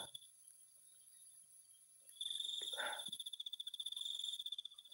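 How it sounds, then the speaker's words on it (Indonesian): Crickets chirp at night in a high, continuous trilling pulse that grows louder and more rhythmic halfway through, with a brief soft rustle among the steady, nearby chirring and no talking. "Ada suara bang, suara jangkrik ya."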